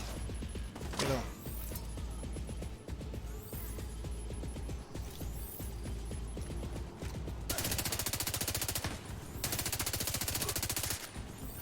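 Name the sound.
gunfire in the video game The Division 2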